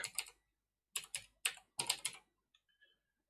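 Quick bursts of keystrokes on a computer keyboard, several short clusters of crisp clicks separated by brief pauses, close and quiet, ending in a couple of faint taps.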